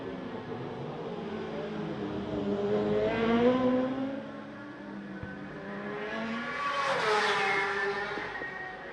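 Racing motorcycles in qualifying for the Macau Motorcycle Grand Prix blasting down the street circuit towards Lisboa, two rising high-revving engine passes that swell loud and fade, alone with no talk.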